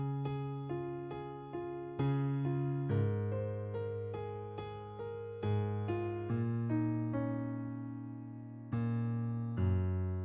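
A piano plays alone, the left hand holding a long-short chord pattern under a right-hand melody, with steady, clearly struck notes throughout.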